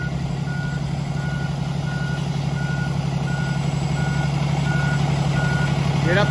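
A truck backing into an alley dock drones steadily under a regular series of evenly spaced backup beeps that carry through the whole stretch, the engine rumble close and constant.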